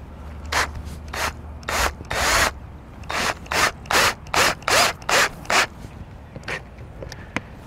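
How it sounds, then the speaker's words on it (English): A screwdriver drives button head screws with a number 2 square bit into an RV slide-out awning on a 2016 Forest River Grey Wolf travel trailer, giving a series of short, loud, rhythmic grinding bursts with brief pauses between them. "number 2 square bit to run this in place, and then just run these in"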